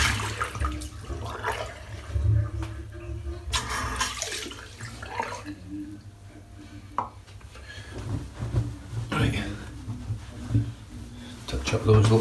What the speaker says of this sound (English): I'm just going to rinse the soap now